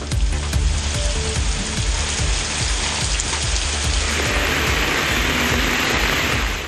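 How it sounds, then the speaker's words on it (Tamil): Heavy rain pours steadily in a thick, continuous hiss, loud and close with a dense patter, and no voices. "பலத்த காற்றுடன் கனமழை கொட்டியது"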